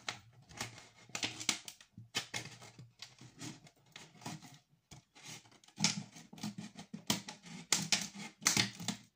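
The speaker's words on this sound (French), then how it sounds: "Et je viens couper le haut de la bouteille et le reste" Utility knife slicing through the top of a plastic bottle, a run of crackly, scratchy cuts in uneven bursts with short pauses, fairly close and fairly quiet.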